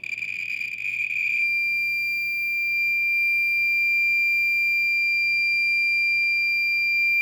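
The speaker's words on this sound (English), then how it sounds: "So I'll turn off the clicker there because it's just a straight whine. But what it's actually showing is it's overloading." A Radii B20 radiation detector overloading beside an alpha-emitting source in a box gives a steady, piercing high-pitched whine, loudest for the first second and a half, then continuing as a thinner, fainter tone without clicks.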